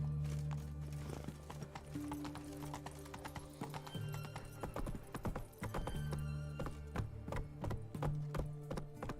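Roach the horse gallops in The Witcher 3, with steady, fast clip-clop hoofbeats throughout, a brief whinny, and sustained tonal game sounds underneath.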